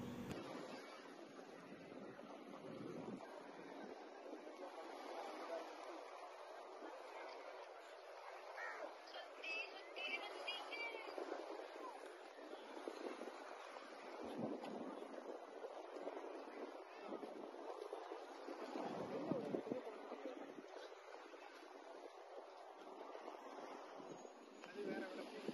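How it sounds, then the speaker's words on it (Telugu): Sea water and waves wash at Rock Beach in Penang, Malaysia, a faint, continuous surf rumble mixed with wind buffeting over roughly twenty-five seconds, with scattered distant voices. "ఆ వాటర్ సౌండ్ అవి అయితే అసలు ఎక్సలెంట్ అనమాట"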